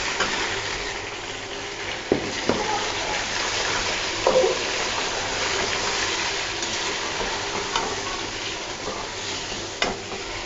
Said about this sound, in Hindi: अब इसमें मैं चिकन डाल दूंगी।